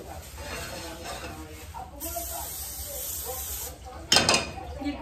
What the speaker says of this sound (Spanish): de lo que les hablaba del aceite de aerosol, voy a estar utilizando este del PAM para que no se peguen